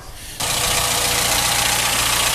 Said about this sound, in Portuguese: o motor tá funcionando